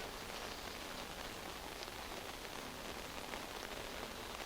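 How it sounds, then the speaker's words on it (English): Heavy rain pours down at an outdoor under-20 rugby league match in Harare, a dense, steady hiss of drops drumming on surfaces without pause, with no voices. "Despite all these heavy rains that are pouring"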